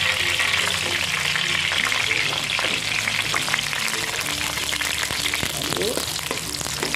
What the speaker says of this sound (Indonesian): Sekarang kita masukkan bawang merah.